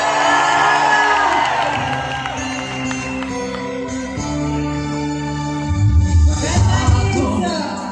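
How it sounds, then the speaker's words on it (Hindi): A large crowd at an award function in Ahmedabad cheers and whoops loudly over music, with shouts and a burst of applause rising near the end, all close and continuous. "एक बार जोरदार तालियां हो जाए।"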